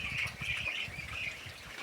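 Muscovy ducks squawk and chatter in a rapid, overlapping burst, close by and fairly loud, with a raspy, continuous quality.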